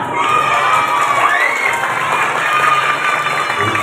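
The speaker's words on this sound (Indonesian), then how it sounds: "tepuk tangan." A crowd of elementary school children shouts and cheers loudly and continuously at an Isra Mi'raj celebration, with some clapping mixed into the noisy, excited din.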